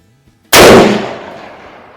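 A single loud rifle shot from a CVA Optima Elite single-shot break-barrel in .243 Winchester cracks sharply after a quiet moment, then rolls off in a long, fading outdoor echo.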